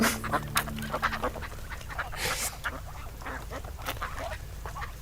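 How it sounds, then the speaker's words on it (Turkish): Several nasal duck quacks sound in short bursts, fairly close, over a low background hum. "nasıl ötüyor seni şapşal ördek?"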